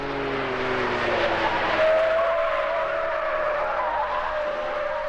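Standard tyres on a 1971 Holden whine and scrub through a tight turn, a loud continuous roar with the engine droning underneath, captured close from the moving car.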